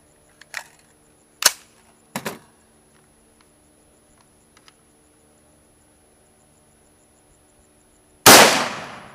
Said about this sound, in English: So it does fire with the mag out.